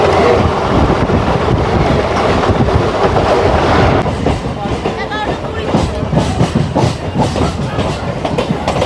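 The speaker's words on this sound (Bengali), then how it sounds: "ট্রেনে এরকম জার্নি করছি, বেশ ভালো লাগছে।" A moving passenger train on an 80-kilometre rail journey, heard from on board. Steady, loud rumble and rattling wheel clatter fill the whole ride, heaviest in the first few seconds and then slightly softer with rhythmic clacks.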